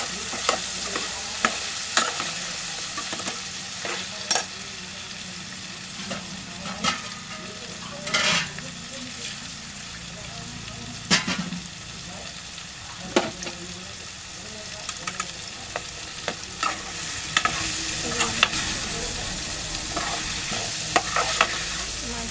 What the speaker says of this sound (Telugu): మంచిగా ఫ్రై చేసుకుంటున్నాను ఇక్కడ చూస్తున్నారు కాబట్టి